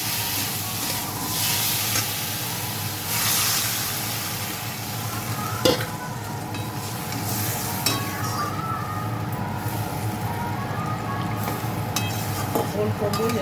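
Water goes into a hot pan for a Bengali katla fish curry with cauliflower, and a steady close sizzle and bubbling follows with occasional stirring clinks of a utensil against the pan.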